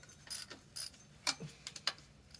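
A worn 14 mm socket wrench ratchets while loosening bolts on an engine's accessories, giving short bursts of quick metallic clicks close by in a quiet garage.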